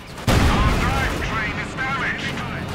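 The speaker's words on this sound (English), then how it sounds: "Panzer there getting blasted by the Sturmgeschütz" A Sturmgeschütz assault gun fires on a Panzer in the Company of Heroes 2 strategy game, a sudden heavy boom followed by rolling rumbling battle noise while a commentator talks over it.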